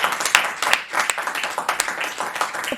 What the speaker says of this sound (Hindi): उनकी हास्य कविताओं को जोरदार तालियों के साथ सुने।